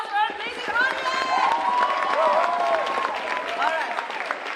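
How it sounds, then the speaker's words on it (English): Round of applause from a dance-show audience, crowd clapping mixed with cheers and voices, with a prominent nearby voice talking and calling over the noise. "Everyone, let's give a round of applause for our amazing audience!"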